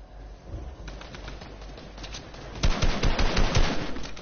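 Rapid gunfire in a video game: bursts of quick, sharp shots rattle out, faint at first and then louder and denser in the last second and a half.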